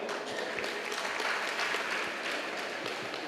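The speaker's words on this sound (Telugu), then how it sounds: "గట్టి క్లాప్స్ కొడదాం." A crowd at a vegetarian-movement rally in Dhone breaks into applause. The steady patter of many hands clapping sounds somewhat distant and soft, and it lasts about three seconds.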